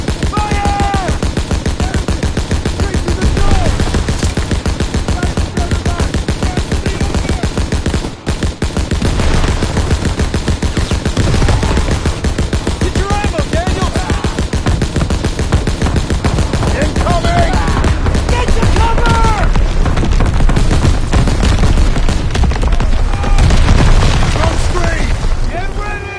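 Dense gunfire and machine guns in Call of Duty WWII, a loud continuous battle of rapid bursts and booms. Soldiers shout orders over the shooting.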